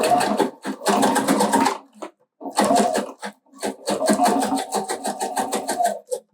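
A sewing machine topstitches the seams of a backpack in long, steady runs of rapid stitching. The runs stop briefly between passes and sound close and fairly loud.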